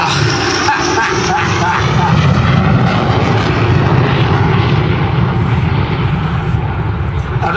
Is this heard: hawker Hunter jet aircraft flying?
yes